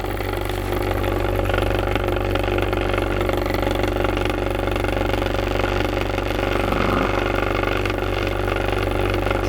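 A homemade satellite generator's motor spins a magnet at about 3400 rpm, giving a loud, steady mechanical drone with a constant hum that holds unbroken throughout, close to the microphone, with no talk.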